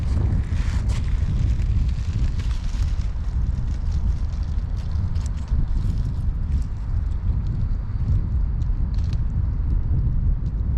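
Wind roars steadily out on a river on a hot day, a loud continuous low rumble buffeting the microphone for the whole stretch, with no voices.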